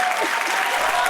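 Applause from many people clapping together at a live event, a dense, steady patter of hands held at one level throughout the short stretch, with no pauses.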